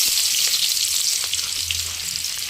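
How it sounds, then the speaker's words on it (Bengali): Onion sizzling in hot oil in a wok, a steady loud crackling hiss that fills the whole moment with no voices. "কড়ার মধ্যে তেল দিয়ে দিলাম তেলটা গরম হয়ে গেছে এখন আমি পেঁয়াজটা দিয়ে দেবো"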